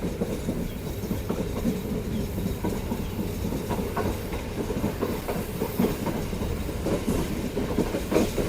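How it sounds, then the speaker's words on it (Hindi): Goods train passing slowly through Jhimpir station, a close, continuous rolling rumble with rhythmic wheel clatter over the rail joints, steady and loud from start to finish. "एंजॉय करें जमपीर से गाड़ी का through action, but slow speed में जा रही है।"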